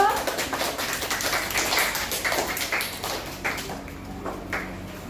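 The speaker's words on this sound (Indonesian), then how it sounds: "Kasih tepuk tangan dulu untuk Rido" Students in an Indonesian classroom clap for a classmate, a burst of scattered hand claps that starts loud and thins out over a few seconds, with room noise and faint voices underneath.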